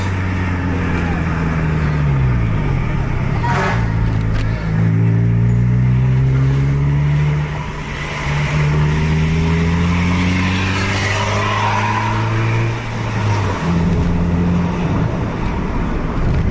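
Several buses race on a circuit in Aceh, with engines rising and falling through repeated gear changes as they accelerate hard, loud and close, joined by other vehicles' roar and a few voices in the background.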